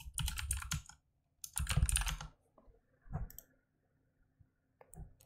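A name is typed into a sign-up form on a computer keyboard, heard up close as brisk bursts of rapid clacking keystrokes separated by pauses, ending in a few lone taps.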